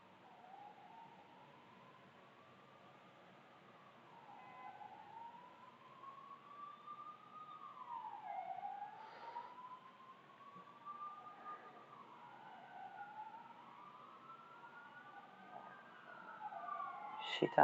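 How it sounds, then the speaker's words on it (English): Several ambulance sirens wailing together, rising and falling and overlapping as they pass at a distance, with a faint voice in the background. "Shit ton of ambulances."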